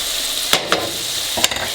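Pasta with mushrooms and wilting spinach sizzles in a pan while being stirred, a bright continuous hiss punctuated by three quick utensil scrapes, close and clear with no voices.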